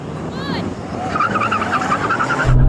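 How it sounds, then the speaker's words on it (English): Porsche 911 Turbo 993 and 992 cars launch side by side in a drag race, with a sustained roaring engine note and a rising whine heard from inside the car, steady and loud throughout. "I can't believe how quick he launched that 993, but now I'm dropping him."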